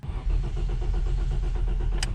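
A Ford Scorpio's 2.9 V6 Cologne engine, fitted with LPG and starved of fuel, cranks over without catching, giving a steady run of rhythmic starter pulses with a brief sharp click near the end.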